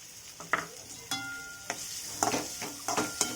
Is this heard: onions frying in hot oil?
yes